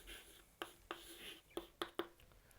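Pen writing on paper while working out a pair-of-straight-lines curve equation, heard as a quiet sequence of about five short scratchy strokes at an uneven pace, close and soft with no talk.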